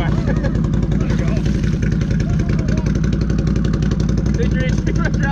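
ATV engine revving hard while spinning wheels in mud on a muddy trail, a loud, rough motor drone with rapid pulsing and clattering bursts, and a voice talking over it.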